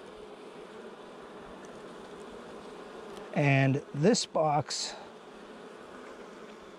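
Honeybees hum steadily inside a hive box full of brood, a low, continuous buzz heard close up, with a person speaking briefly over it midway.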